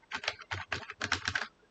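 Fingers type an email on a computer keyboard, producing quiet clusters of quick key clicks in several short bursts separated by brief pauses, with no talking.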